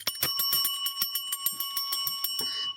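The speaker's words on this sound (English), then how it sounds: "Do I hear a bell for Ray Krebs?" A bicycle-style bell rings in a rapid series of bright metallic dings, about a dozen strikes in quick succession with a sustained ringing tone, fairly quiet and alone.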